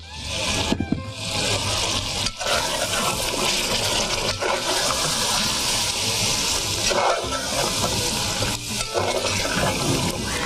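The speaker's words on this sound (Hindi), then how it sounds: "पानी डालेंगे थोड़ा और।" Water pours into a pot of mutton korma as it cooks, a steady, loud gushing and sizzling wash that runs continuously for about ten seconds with a few brief dips.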